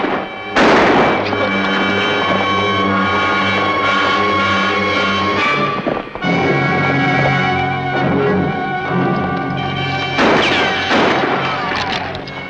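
Gunfire sound effect in an old-time Lone Ranger radio drama: sharp crashing shots at the start and again near the end, mixed over music and a voice speaking.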